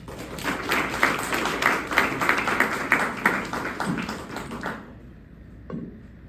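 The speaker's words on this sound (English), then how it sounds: "Again, give this panel a round of applause." Audience applause for a panel at a documentary film event on safety and free expression, steady clapping from a crowd for about five seconds that cuts off abruptly, followed by near silence with a faint tap.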